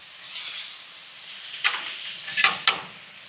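Food searing on a Weber Slate 36-inch griddle over high heat, a steady soft sizzling hiss with a few sharper crackling pops near the end, close and moderately loud with no talking.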